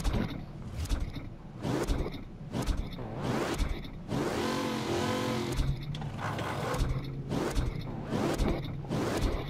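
A car engine in a video game revs in a series of repeated surges with whooshing, mechanical rises and falls, loud and close, heard on its own without speech.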